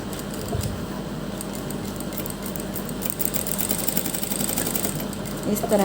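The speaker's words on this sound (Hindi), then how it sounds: "स्ट्रिप को इस तरह से इस शेप में रखते हुए हम इस पर सिलाई लगा देंगे।" A sewing machine stitches a fabric strip into a neck design, running close and steady with a continuous mechanical whir throughout.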